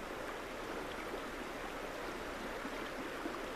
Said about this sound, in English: The sound of the river home.